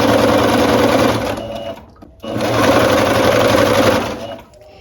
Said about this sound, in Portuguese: Aí eu costuro bem na beiradinha agora, tá?